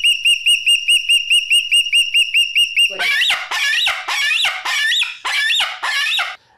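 A pet Moluccan (salmon-crested) cockatoo gives a rapid run of shrill repeated whistles, then a series of very loud, harsh screeching calls in bursts, close and piercing.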